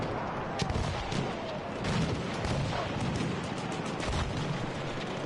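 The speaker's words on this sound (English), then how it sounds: "Lots of explosions already." Explosions and gunfire from a competitive Frontlines match in Battlefield 1 form a dense, continuous roar of blasts and shots, with louder bursts rising throughout and no clear gaps.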